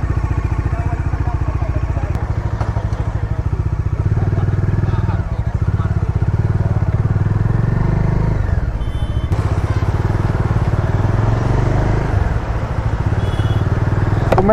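Motorcycle riding along a road, a steady close engine drone with clatter and wind that runs for the whole stretch, loud and unbroken.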